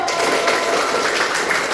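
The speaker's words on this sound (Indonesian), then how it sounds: "tepuk tangan untuk kalian dulu" Applause from an audience during an on-the-job training session on emotion management: loud, dense clapping from a group, continuous and close throughout.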